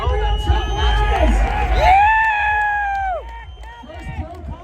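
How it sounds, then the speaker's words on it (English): Crowd at a BMX contest in Denver cheering and whooping for the winner of a pro contest, loud shouts and a long rising yell over busy chatter and clapping, with voices close by. "Can I get a great big round of applause for our winner Gabby today?"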